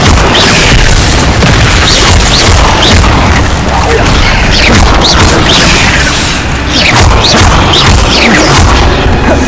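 In the Hogwarts Legacy video game, the Incendio fire spell bursts as a dense, continuous spell-combat clamour. Loud booms and crashing impacts fill the whole stretch.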